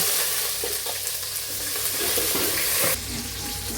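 Onions frying in a pan for chicken curry in a home kitchen, a steady, close sizzle with occasional stirring scrapes and no talking.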